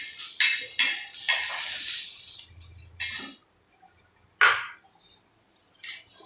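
Green chillies roasting in a pan, with crackling sizzle and stirring scrapes in bursts, then quieter gaps broken by a few sharp rattles and sizzles, close and alone with no talk.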